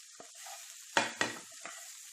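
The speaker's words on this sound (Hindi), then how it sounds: "अच्छे से फ्राई कर लें।" Okra frying with coriander and cumin powder in a pan gives a soft steady sizzle, broken by a few sharp scrapes and clinks as it is stirred, with no voice.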